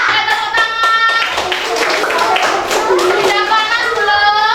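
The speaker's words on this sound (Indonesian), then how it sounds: "Tepuk tangan lagi." Children in a second-grade primary school class clap their hands together while young voices sing and chatter over a busy, continuous background.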